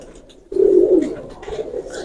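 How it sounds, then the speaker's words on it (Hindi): Original Banka pigeon giving one short, close, throaty coo lasting about half a second, followed by quieter rustling. "ये ओरिजिनल बांका कबूतर है, उस्ताद खान दिलावर खान साहब वाला कबूतर है"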